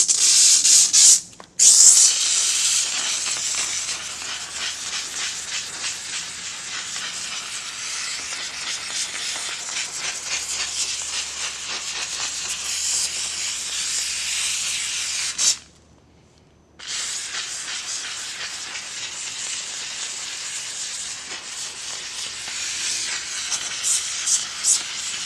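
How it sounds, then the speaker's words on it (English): A steam cleaner working over a moldy van seat treated with chemical, giving a loud, continuous hiss with a faint rubbing texture that runs almost the whole time, broken by a short gap early on and a longer pause midway. "Now we're going to steam it a little bit."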